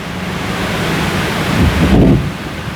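Wind blowing steadily outdoors in the aftermath of Hurricane Helene, a continuous broadband rush with mic buffeting that swells louder toward the end, no voices.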